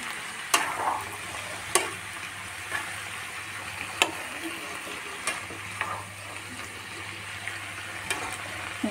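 Peas, carrots, broccoli and mushrooms being stirred with salt in a pan sizzle steadily while a spoon scrapes and taps the pan in irregular strokes every second or so.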